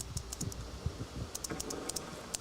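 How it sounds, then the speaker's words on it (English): Clicky Cherry MX mechanical keys on an Alienware x17 R2 gaming laptop, typed in quick irregular bursts of sharp, fairly subtle clicks over a low background hum, no talking. "it's got the Cherry MX keyboard, and you can hear the clicking here"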